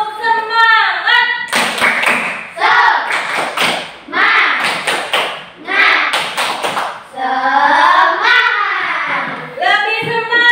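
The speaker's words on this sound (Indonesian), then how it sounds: "tepuk semangat" A school class performs a rhythmic spirit clap, loud patterned bursts of clapping and table thumps alternating with children chanting together in unison, close and energetic throughout.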